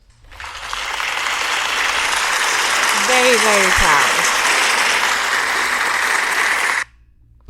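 Crowd applause sound effect, a steady broadband clapping that swells in and holds loud for several seconds before cutting off abruptly, with a voice briefly heard over it.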